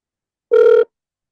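An outgoing telephone call rings out with one short, steady tone that stops abruptly, heard alone against silence during a schools' quiz livestream call-in.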